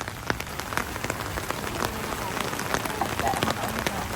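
Steady rain falling on a rainy campsite near a fire pit, a dense, continuous patter of drops on nearby surfaces with occasional louder splats and faint voices in the background.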